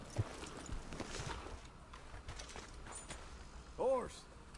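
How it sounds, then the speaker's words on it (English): Hooves of a horse in Red Dead Redemption 2 clop in a light, uneven rhythm at a moderate distance, broken by a brief louder snort or whinny near the end, with a voice speaking briefly. "Horse."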